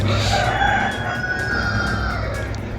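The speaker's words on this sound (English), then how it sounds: "As you can hear the chickens" A rooster crows loudly nearby in a long drawn-out call at 6 a.m. in Cappadocia, Turkey, with other chickens clucking in the background.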